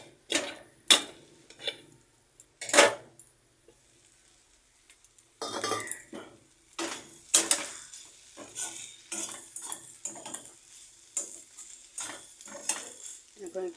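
A metal pot lid is lifted off cooking food, giving a few sharp clanks and rattles of metal on metal, separated by quiet gaps, followed by lighter clinks and scraping.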